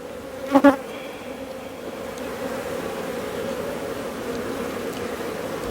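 Honeybees buzz at a hive being checked for overwintering, a steady close drone with a couple of louder brief buzzes early on as bees pass near, and no voices.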